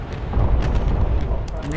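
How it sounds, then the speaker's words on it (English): Bombs dropped on the Normandy beaches in the Bomber Crew game land with a heavy, rumbling boom that rolls on for a moment, with speech mixed in. "we're gonna release our bombs"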